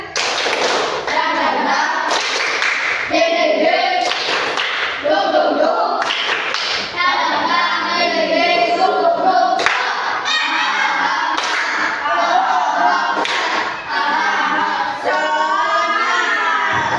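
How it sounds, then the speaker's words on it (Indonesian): Rhythmic group clapping fills a classroom, with sharp patterned claps in time and young voices chanting loudly along the whole way through. "Masih semangat? Tepuk semangat."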